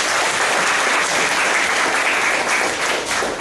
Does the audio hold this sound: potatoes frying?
no